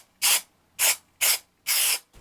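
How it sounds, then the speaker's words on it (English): Spray adhesive hissing from an aerosol can onto felt in four short sharp bursts, the last slightly longer, close and clear with quiet gaps between. "to attach this piece of felt, I simply used a little bit of spray adhesive"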